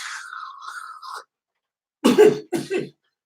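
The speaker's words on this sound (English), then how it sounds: "smoke another one and see if you cough again" A harsh cough bursts out after a stretch of quiet, followed by a second, shorter cough, close and loud, with an earlier drawn-out throaty sound before them.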